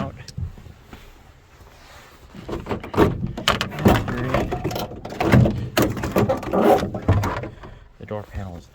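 Clunks, clicks and plastic snaps as a broken interior door panel is pried off a 1990 Dodge Grand Caravan, close and fairly loud, with someone talking over the work.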